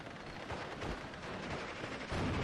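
Gunfire aimed at a Panzer IV-J in Steel Division: Normandy 44 rumbles as dense, muffled battlefield shooting, faint and continuous with distant booming bursts.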